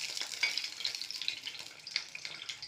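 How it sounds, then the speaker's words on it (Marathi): Boiled eggs fry in a little oil in a pan, giving a steady, soft crackling sizzle with small pops scattered throughout and no voices. "त्यानंतर मी पॅनमध्ये थोडंसं तेल टाकलं आहे आणि त्या तेलावर हे अंडे थोडेसे फ्राय करणार आहे."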